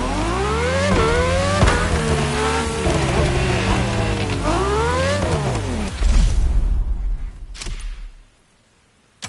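Ferrari GTO engine in the racing video game The Crew, revving loudly through rising and falling gear shifts with a tyre squeal near the end before cutting to silence.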